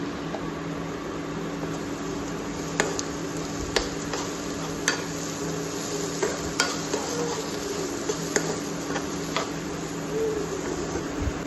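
Chicken seasoned with black pepper sautés in a pan while being stirred, producing a steady close sizzle dotted with frequent light spatula taps and scrapes and no speech.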